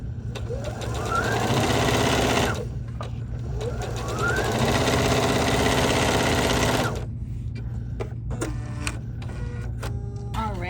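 Sewing machine stitching a bucket hat seam in two long motorized runs with a pause between, then stopping; faint clicks and handling of fabric follow, over a low steady hum.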